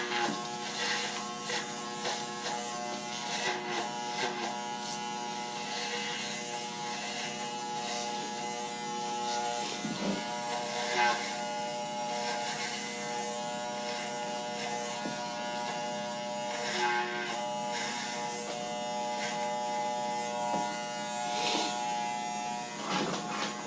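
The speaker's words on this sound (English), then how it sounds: "you don't want to take the clipper too much higher than that" Electric hair clippers buzz steadily and close throughout a men's haircut, a continuous tonal drone with slight dips as the blades move around the head.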